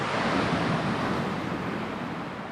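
Ocean waves wash onto Bavaro Beach in Punta Cana as a continuous, close roar of surf mixed with wind buffeting the microphone, with no voices.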